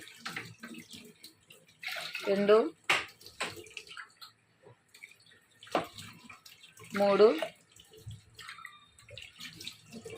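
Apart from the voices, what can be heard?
water pouring into a pot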